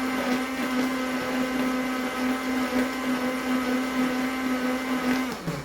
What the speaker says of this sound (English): I'm going to beat this a little bit to try and drive some air into the mixture